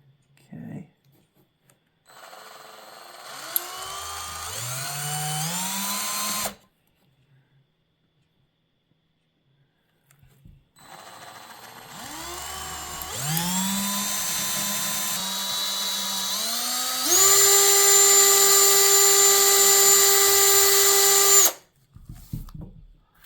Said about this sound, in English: If you put the drill in here, just try to do it freehand, it won't work very well.